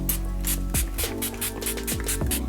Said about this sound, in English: I'm going in with my e.l.f. Makeup and Set Setting Spray